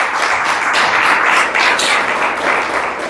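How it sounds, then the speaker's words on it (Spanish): A church congregation bursts into loud, dense applause during a worship service, many hands clapping together in a steady, close roar with slight swells. "Dale un aplauso al Señor"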